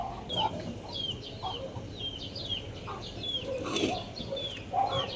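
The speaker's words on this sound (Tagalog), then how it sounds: "Nakita na naman yung mga manok." Several chickens cluck and chirp on and off at a moderate distance, with occasional louder calls over a quiet outdoor background.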